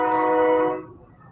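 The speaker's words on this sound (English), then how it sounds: "A train is going past my house right now," A train horn sounds as a long, loud, steady tone while a train passes a house, then it cuts off into a quiet rumble, with no talk over it.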